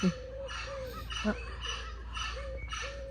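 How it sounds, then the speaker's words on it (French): Repeated hooting owl calls at a steady rhythm, several short calls spaced about half a second apart, fairly near against a low background hum. "Ouais, il y a hibou."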